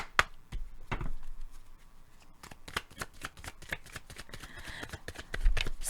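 Rapid riffling cards snap and patter in quick bursts, close and fairly loud, with a few sharp taps between runs.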